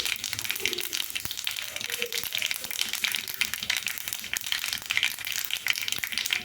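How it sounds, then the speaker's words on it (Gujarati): Mustard seeds crackle in hot oil, joined by sesame seeds, while tempering for Gujarati patra: a dense, continuous patter of sharp pops and sizzling, close and steady throughout. "તેની અંદર રાઈ એડ કરીશું રાઈને તતડવા દઈશું"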